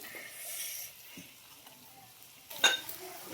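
Eggplant frying in a pan with tomato and onion gives a low, steady sizzle, with a sharp utensil clink against the pan near the end and a few soft stirring scrapes.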